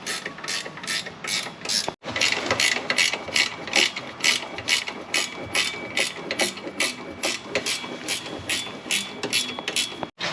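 A ratchet winds down the offside legs of a VB Semi Air Comfort suspension on a motorhome, giving a steady run of close, crisp pawl clicks that pauses briefly near the start and again at the end.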